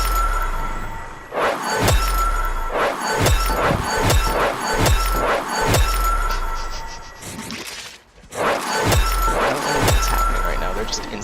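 Repeated bursts of glass-like shattering and clinking from Gara's abilities in the video game Warframe, arriving in quick successive crashes over a constant background, with a brief drop near the end before more breaking.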